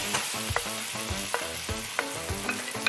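Tomatoes stirred in a bubbling wet-fry stew, a constant close sizzle with rapid rhythmic scraping strokes of a spoon against the pot and occasional sharper clinks, no talking.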